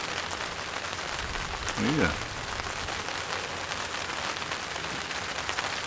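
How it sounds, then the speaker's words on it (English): Rain patters steadily across a tent tarp at a backyard camp in Whakatane, a constant dense hiss of drops throughout, with a brief spoken word in the middle. "So it's the first rain we've had"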